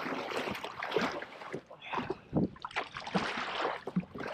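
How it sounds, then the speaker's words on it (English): Kayak paddle strokes dip and slosh through the water on a fishing trip off Port Stephens, New South Wales, with repeated close splashes and gurgles forming an uneven rhythm. "Bit of paddling never hurt anyone."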